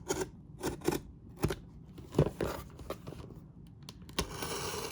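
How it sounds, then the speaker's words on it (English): Cardboard shipping box holding a 1956 Topps Mickey Mantle baseball card being cut and pulled open, with a series of sharp snips, rips and crinkling scrapes close by, with no talking. "I think I'll open this box"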